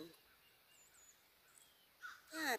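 A crow caws outdoors in a cold, quiet neighborhood: faint calls at first, then a couple of loud, harsh caws close by at the end.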